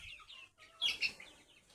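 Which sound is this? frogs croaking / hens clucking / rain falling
hens clucking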